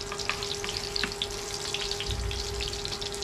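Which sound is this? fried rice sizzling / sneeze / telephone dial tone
fried rice sizzling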